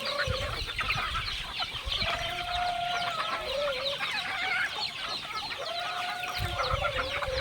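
Chickens and chicks cluck and cheep nearby in a continuous busy chorus, with repeated mid-pitched clucks over a thin layer of high peeping.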